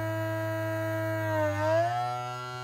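A cordless Vanpopubs suction cup lifter's battery vacuum pump runs with a steady electric hum and whine, close and alone, its pitch dipping and rising briefly as the seal forms.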